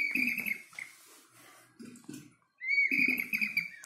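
A bird-shaped water whistling vessel chirps and trills in bright, high warbling bursts much like a real songbird, with brief gaps and a low gurgle of water beneath the whistling.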